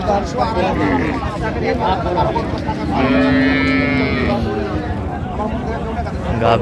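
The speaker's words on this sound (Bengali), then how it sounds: "গাভী বাছর আমরা দেখছিলাম" At a crowded cattle market in Raniganj, Dinajpur, where dairy cows and calves are sold, a cow gives one long, loud moo over a steady murmur of people talking nearby.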